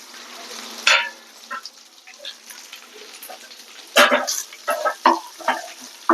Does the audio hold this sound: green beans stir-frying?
yes